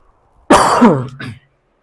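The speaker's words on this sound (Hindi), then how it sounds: "आज तो भैया क्लास में खांसी बड़ी आ रही है।" A single loud, rough cough close to the mic, with a short throaty follow-up, then silence.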